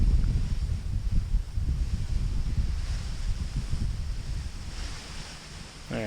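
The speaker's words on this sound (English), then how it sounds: "And the wind is really kicking here." Strong wind at a paramotor launch site, a loud, steady rumbling roar of gusts hitting the microphone, easing slightly toward the end with a faint rustle.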